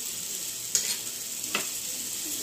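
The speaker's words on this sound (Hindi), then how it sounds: "और इसको अच्छे से फ्राई कर लेंगे।" Fried rice with soy sauce and coarsely ground black pepper frying in a pan, a steady close sizzle with two brief scraping stirs standing out against it; no voices.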